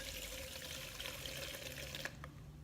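Water swirling in a makeup brush cleaning device as a brush is spun around in it, a steady close washing hiss with faint clinks near the end and no talk.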